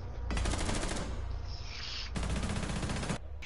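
Rapid automatic gunfire in Rainbow Six Siege, two loud close bursts of sustained fire separated by a short pause, with faint game sounds in the gap.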